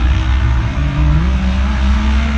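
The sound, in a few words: UTV race cars racing into the first turn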